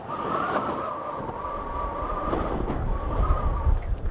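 Strong wind sweeps across the Greenland ice sheet, a loud, gusty rushing roar close to the microphone, buffeting unevenly and building toward the end.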